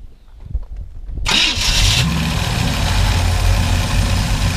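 A 1950 Plymouth Suburban two-door wagon engine cranks over with a brief starter whir, catches, and settles into a loud, steady idle close by.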